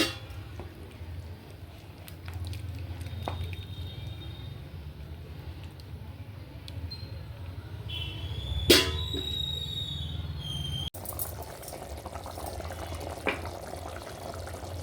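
A pot of multi-millet and moringa-leaf kichidi with masala powder and coriander seeds boils on the stove, a low steady bubbling rumble with a few faint clinks and one brief sharp knock.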